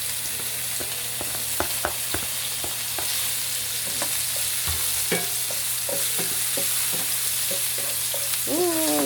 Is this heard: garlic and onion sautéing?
yes